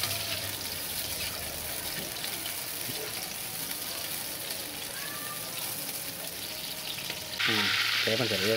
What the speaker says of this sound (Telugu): టమాటా పచ్చడికి టమాటా కాయలు ఫ్రై